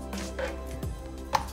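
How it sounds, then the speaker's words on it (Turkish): A knife cuts chicken into julienne strips on a cutting board in a few sharp, irregular knocks close up, with faint kitchen clatter. "İlk başta tavuklarımızı jülyen şekilde doğruyoruz"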